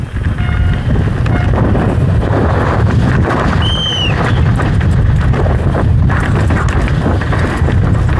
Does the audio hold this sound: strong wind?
yes